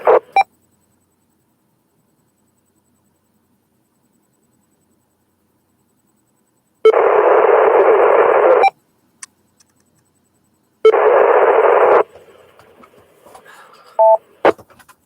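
Bursts of hissing, static-filled amateur radio transmission come in without any intelligible voice, two loud stretches of roughly two seconds each with a short click and beeps before and after, separated by silence.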